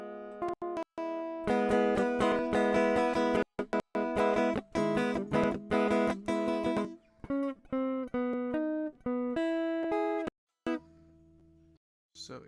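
Guitar notes played one after another on the third, fourth and fifth strings, each plucked tone ringing in a steady rhythm, close and clear, with short pauses and a few softer notes near the end.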